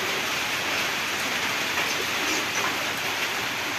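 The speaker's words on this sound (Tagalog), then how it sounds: "Bumuhos naman ganito. Ayan o. Kaya umulan." Heavy rain pours down in a dense, continuous hiss on surfaces, steady and close throughout, with faint bird coos mixed in.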